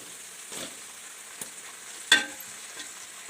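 Onions fry in a pan in a faint, quiet sizzle broken by a few soft scrapes and clinks of stirring, with no voices.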